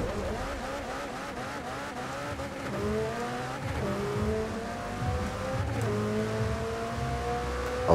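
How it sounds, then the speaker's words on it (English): A 2019 McLaren Speedtail hypercar launches and accelerates hard in a Forza Horizon drag race, its engine note climbing steadily through stepped gear changes, loud and continuous with faint tire noise underneath. "So, on to the 2019 McLaren Speedtail. Let's see if this one here could pull up faster than the P1."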